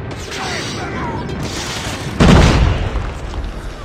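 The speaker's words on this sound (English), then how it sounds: "Friendly airstrike incoming." A friendly airstrike in a first-person shooter, a sudden loud boom at mid-clip followed by a rumbling, crackling tail over steady game background noise.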